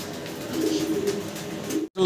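Fancy Spangle Shallow pigeons give soft, rolling coos close by, a continuous low warble that cuts off abruptly near the end.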